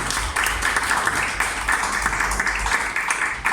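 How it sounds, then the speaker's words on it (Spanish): A church congregation bursts into applause during a worship service, a dense, loud clatter of many hands with a few sharper bursts, sustained across the whole stretch without speech. "Den un aplauso al Señor."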